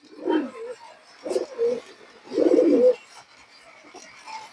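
Old-line pigeons coo in three separate throaty phrases, the last the longest and loudest, heard close with only quiet background between them.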